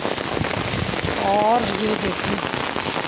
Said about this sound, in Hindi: कितनी तेज़ बारिश है, ये देखिए इतनी ज़ोर की बारिश हो रही है